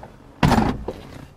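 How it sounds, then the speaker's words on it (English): A BMW car door shuts with a sharp, close thunk, followed by a softer secondary knock as it settles, in a quiet interior. "Okay, so I just closed the door"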